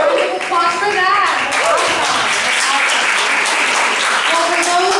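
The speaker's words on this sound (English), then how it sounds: "Applause for that." Audience applause at a youth civic engagement candidate forum in Miami, loud close clapping sustained throughout with voices and cheers mixed into the crowd.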